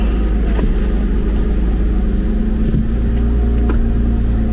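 A Porsche Boxster S 987 engine idles on ethanol fuel, a steady, loud low rumble with an even hum and no change in revs, heard close and without talk.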